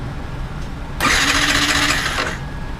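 A hard-starting Yamaha R15 v2 motorcycle with a freshly cleaned, previously rusted fuel tank is cranked once. The starter whirs loudly for about a second before cutting off, and the engine never catches.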